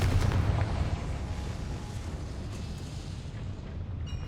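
A Confringo fire blast spell exploding in Hogwarts Legacy, a deep booming burst at the start that trails off into a long rumbling decay.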